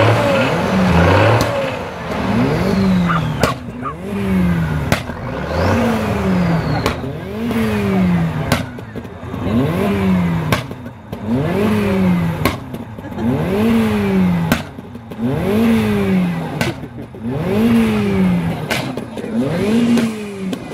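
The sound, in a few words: army truck engine revving at a classic car show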